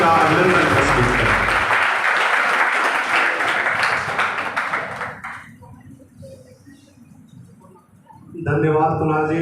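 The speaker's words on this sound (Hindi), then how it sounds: "आप लोग जोरदार तालियों से इनका अभिनंदन प्रस्तुत करें।" Loud audience clapping at a Bihar skill development ceremony, sustained at first, then dying down to a quiet room before a voice starts speaking.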